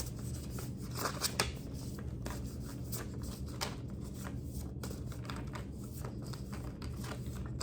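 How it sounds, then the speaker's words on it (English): A deck of tarot cards is shuffled by hand close up. Quick riffling and papery slaps repeat in uneven bursts throughout, with no talking. "I'm going to shuffle and I'll pull the last card from the bottom of the deck"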